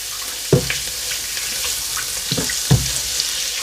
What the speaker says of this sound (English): I'm going to add my garlic in and just fry it for about a minute or so